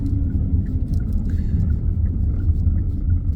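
Steady low car engine rumble heard from inside a vehicle on a commute, loud and continuous throughout with no talk over it.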